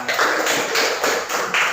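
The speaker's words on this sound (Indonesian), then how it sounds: "tepuk tangan buat kita semua" Classroom applause with everyone clapping together in Indonesia: steady, close, bright hand claps in a quick repeating rhythm, with several louder pulses spread through the brief burst.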